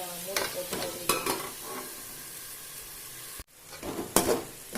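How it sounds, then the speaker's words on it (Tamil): Onions and tomatoes sautéing in a pan for brinjal kurma kuzhambu, with soft sizzling broken by repeated scraping stirs of a spoon, a brief quiet gap, then more stirring close by. "வெங்காயம் தக்காளி வந்து நல்லா வதங்கணும்."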